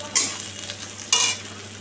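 Onion with cumin, coriander, Kashmiri chilli powder, turmeric and tomato frying in a pan, a continuous sizzle broken by two sharp bursts of louder spitting as the mixture is stirred, close and without speech.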